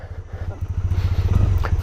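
A Triumph Bonneville parallel-twin motorcycle runs on a ride, a loud close pulsing thrum with a rapid, even firing beat that swells slightly as it goes, with no talking.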